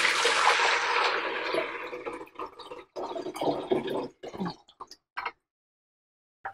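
Water is poured into a Roylan Strava heater during a repair, starting as a loud steady rushing stream, then breaking into uneven splashes and trickles before a few last drips in near silence.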